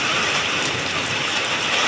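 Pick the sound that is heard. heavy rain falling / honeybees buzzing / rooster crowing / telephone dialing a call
heavy rain falling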